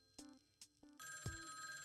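A telephone rings in the video game Tokyo Babel: a few short shrill tones, then a sustained ringing tone with a click partway through, quiet and alone.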